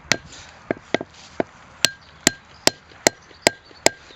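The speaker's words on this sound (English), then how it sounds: "put that into the tree, hammer it home as far as it'll go" Sharp, hard knocks as the back of an axe hammers a wooden peg into a birch tree, about ten blows spaced roughly half a second apart, close by with little else around.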